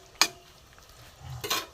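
Stuffed pointed gourds in a simmering gravy are stirred in a cooking pot, giving two brief, quiet scraping strokes separated by a pause. No one speaks.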